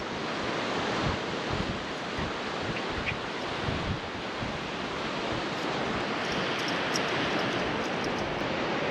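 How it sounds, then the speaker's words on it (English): Strong wind and rolling surf fill an Oregon coast beach at Short Sand Beach with a dense, continuous roar and gusty microphone buffeting, with no talking. "it's a little windy, but it is a nice warmer day"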